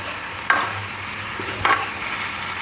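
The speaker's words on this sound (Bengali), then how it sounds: "এবার ভালো করে গুড়টা আমের সাথে মিশিয়ে নিতে হবে" Jaggery being stirred into raw mango pickle in a pan, two distinct scraping strokes over a soft continuous sizzle, close and fairly quiet with no talking.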